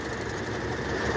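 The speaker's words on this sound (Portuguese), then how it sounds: "Motor aqui em funcionamento" A 1994 Fiat Uno Mille Eletronic with its original engine idling, giving a steady, close mechanical hum and a fine ticking rattle throughout.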